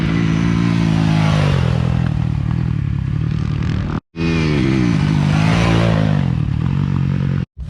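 A motorcycle coasts during a riding lesson: a loud, close engine drone holds steady and shifts in pitch, cut by two abrupt brief dropouts, with no voices.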